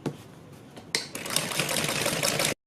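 A sewing machine stitches around a fabric neckline: a few light taps, then a steady, fast mechanical whir that runs close and loud before stopping abruptly.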